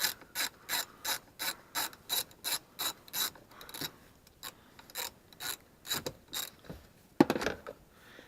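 A ratchet clicks in quick, evenly spaced bursts, pausing and resuming, while T30 Torx bolts are loosened behind the steering wheel of an Audi A4 (B6/B7), close and fairly faint.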